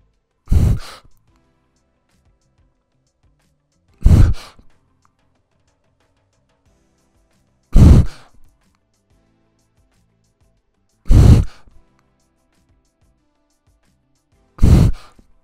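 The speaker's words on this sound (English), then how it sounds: "Notice how I first exhale through my nose a little and then through my mouth." A swimmer doing freestyle exhales in five evenly spaced breathy bursts about every three seconds, first through the nose and then the mouth, close and loud with near silence between breaths.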